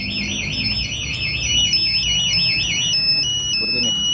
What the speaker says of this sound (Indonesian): jadi bunyinya kayak gini, dia getar dan bunyi